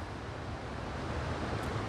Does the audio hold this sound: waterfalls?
yes